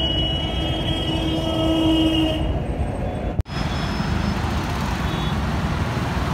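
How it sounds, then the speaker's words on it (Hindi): A Delhi Metro train moving through Botanical Garden station in Noida, heard from a footbridge above as a steady loud rumble of wheels and traffic-like noise, with one sharp brief break midway and no talking. "ये देखिए मेट्रो आ रही है।"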